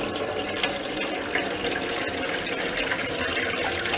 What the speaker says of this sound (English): put water in it.